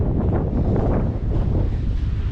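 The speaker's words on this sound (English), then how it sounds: "And it's very windy." Strong wind buffets the microphone in a constant, rough roar with gusty swells throughout.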